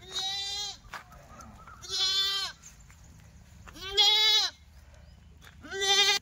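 Goats bleat close by in four loud, drawn-out calls spaced a couple of seconds apart, with quiet farmyard background between them.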